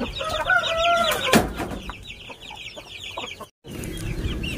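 A brooding hen sitting on a clutch of ten eggs gives a run of close, soft clucks and low calls, with other chickens and chicks chirping around the farmyard.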